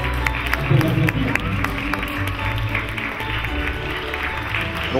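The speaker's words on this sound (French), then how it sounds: "On peut l'applaudir." Audience at a Christmas show applauding, a continuous clatter of clapping mixed with crowd murmur and some talking, fairly loud and steady throughout.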